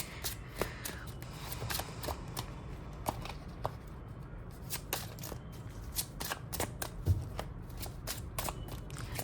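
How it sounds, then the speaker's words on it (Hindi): Playing cards, most likely a tarot deck, shuffled repeatedly with quick riffling flicks and soft slaps in a steady rhythm, close by and moderately loud, with no speech. "तो आइए फिर से शफल कर लेते हैं"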